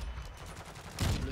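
A single booming Intervention sniper rifle shot in Call of Duty Modern Warfare 2, a loud close blast around the one-second mark standing out over a low, rumbling game background.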